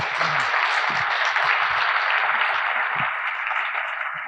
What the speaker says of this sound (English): So let's give Don a round of applause.